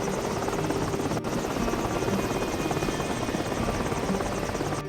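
A magic helicopter in an animated Hindi children's story whirs with a continuous, steady rotor drone that stays loud and even throughout, with one brief click partway in.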